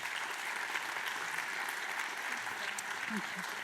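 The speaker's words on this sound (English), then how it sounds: "Please give our panel a big round of applause." Sustained applause from a large conference audience at the World Heart Summit 2024, steady and dense clapping throughout with a faint murmur of voices.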